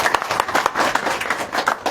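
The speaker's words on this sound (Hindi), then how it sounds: "जोरदार तालियों करें।" Applause from the audience at a BJP party membership-drive meeting held in an office, a dense steady patter of many hands clapping for the full two seconds at moderate loudness, with no voices standing out.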